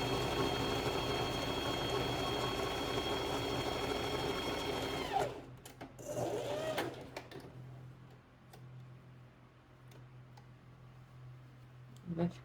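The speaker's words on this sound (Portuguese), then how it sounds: "É só passar uma costura bem fininha aqui." A domestic sewing machine stitching a swimsuit seam runs in a fast, steady mechanical whir with rapid ticking for about five seconds, then stops. Brief fabric handling and faint clicks follow in a quiet room.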